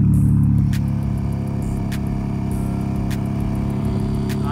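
A group of BMW M3 and M4 cars, G80 M3, G82 M4 and F82 M4, drones loudly nearby on a San Francisco street while warming up their tires, a steady engine hum with a gentle swell at the start.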